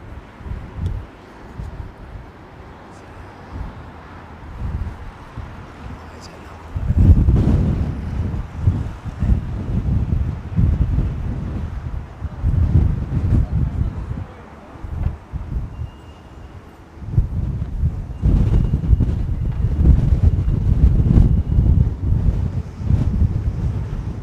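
Gusty wind buffets the microphone at London Heathrow Airport, a low rumbling roar that swells and eases in waves and grows heavier in the second half, with no talking.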